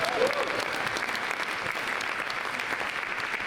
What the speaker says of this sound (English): a big round of applause to the kids who performed the songs